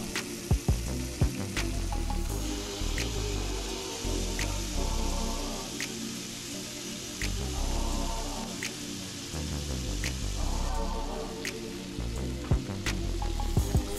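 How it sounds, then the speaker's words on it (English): Shredded beef and smoked pork belly sizzle on a Blackstone griddle, a steady crackling fry under intermittent bursts of low, music-like background tones, with a few sharp clicks near the start. "we're gonna add a nice serving of shredded beef to the Blackstone to allow it to cook down just a little bit more"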